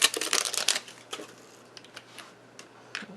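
Plastic film is peeled off a new glue bottle at a papercraft table, giving a quick run of crinkly, crackling rustles followed by a few sparse, faint ticks and crackles.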